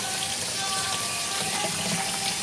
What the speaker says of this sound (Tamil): சிங்கில் படாமல் கழுவு.